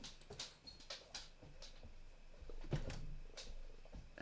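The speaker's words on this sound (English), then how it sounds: "And that was my dog coming in to join me" A pet dog moving around indoors, heard as faint, scattered soft thumps and patters with light scuffling and a few small bursts, distant and quiet, with no voices.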